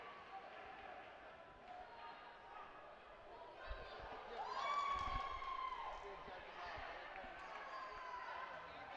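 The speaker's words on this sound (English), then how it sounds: "cheering Celine on" New Zealand fans cheer from the stands at a women's boxing quarterfinal, a distant crowd roar that swells midway under steady commentary.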